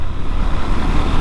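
A KTM Duke 390 BS6 motorcycle engine runs loud and close, a dense steady roar with rough low rumble through a quick series of downshifts.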